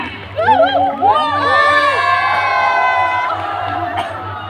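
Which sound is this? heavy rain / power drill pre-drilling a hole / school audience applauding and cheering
school audience applauding and cheering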